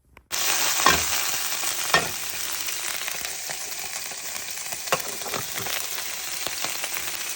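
Steaks frying in a pan at a remote Newfoundland hunting cabin: loud, continuous sizzling with occasional crackles and pops, heard alone throughout.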